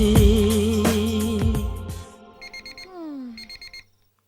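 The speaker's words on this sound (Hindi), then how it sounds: "ए जी अलार्म बज रहा है, उठ जाइए।" An alarm clock rings in a Hindi-dubbed South Indian action thriller film: loud music fades out, then a shrill electronic alarm beeps in rapid repeated bursts, clear and close.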